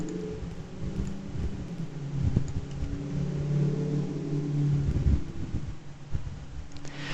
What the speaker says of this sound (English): people are braking to make the corner and then accelerating to speed up again after the corner